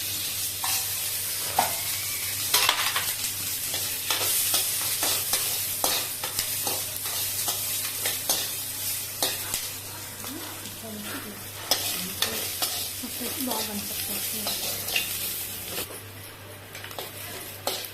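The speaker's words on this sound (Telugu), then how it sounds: "ఒక స్పూన్ ఆయిల్ వేసుకొని వేయించుకోండి." Chopped onions frying in a spoonful of oil, a loud continuous sizzle broken by repeated scraping stirs of a utensil against the pan, with occasional metallic clinks throughout.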